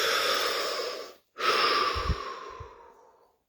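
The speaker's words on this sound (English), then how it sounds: "Deep breath." One deep breath during a guided body-relaxation exercise: a long, close, airy inhale, a brief pause, then a slow exhale that fades out gently, with no talking.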